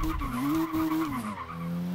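Car wheels spin and tires squeal in a gravel trap in the TOCA Race Driver 3 video game, with a loud, sustained engine whine rising and falling, then dropping to a steady lower drone.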